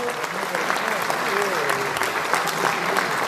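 Audience applause at a formal national ceremony attended by Nepal's prime minister KP Sharma Oli, welcoming the guests: dense, steady clapping from a large crowd that fills the whole stretch, with faint voices underneath.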